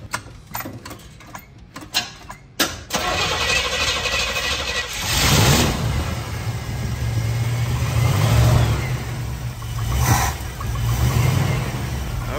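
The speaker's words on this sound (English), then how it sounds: "Okay, it's alive and it's sounding good, boys." A 1969 Jeep Gladiator's engine cranks with sputtering turns, then catches and runs loud and close, with the throttle rising and falling in several revs over a steady rumbling idle.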